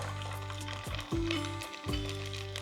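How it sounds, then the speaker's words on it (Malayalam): Whole peeled garlic cloves dropped into hot oil while making a lemon pickle, giving a steady close sizzle and frying crackle with a couple of brief stirring scrapes, no voices. "നമ്മൾ നന്നാക്കി വെച്ച വെളുത്തുള്ളി എല്ലാം കൂടിയിട്ട് ഇതിലേക്ക് മുഴുവനായിട്ട് ഇടുകയാണ്."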